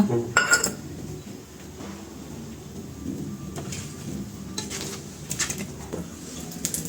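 A spoon scrapes and clinks in a pan as powdered bread crumbs are mixed, giving a series of close, irregular stirring strokes over a faint background hiss.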